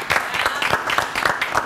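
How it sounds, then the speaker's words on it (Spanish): A studio audience claps warmly to welcome two guests, Roberto Titi Pulido and Marcelo Solanas, onto a talk show, with a dense patter of hands rising and falling in bursts, close and lively, and a voice faintly mixed in. "a quien recibimos con un fuerte aplauso"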